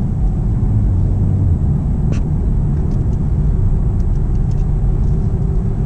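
A 2016 Camaro SS accelerates to 50 mph, its engine and road rumble filling a steady, loud, low drone from the cabin with no talking.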